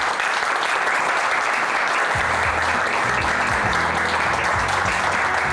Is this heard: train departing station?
no